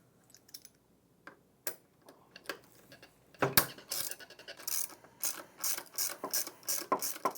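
A ratchet wrench loosens a bolt on a transfer roller belt assembly of an IKON wheelchair. The clicking starts as sparse, faint taps, then turns into dense, loud bursts of rapid ratcheting close by.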